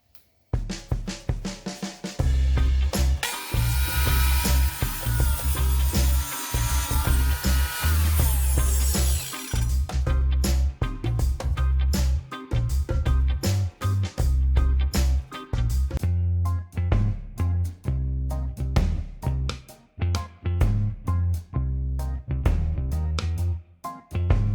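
A table saw cuts box joints on a crosscut sled for a longboard, its motor whining steadily with repeated sharp cutting passes and brief pauses between them, loud and close.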